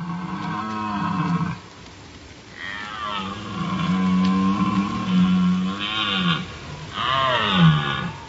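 Deer stags bellow during the rut near Chernobyl, deep, drawn-out calls repeating several times with short pauses between, loud and close, each rising and falling in a hoarse groaning tone.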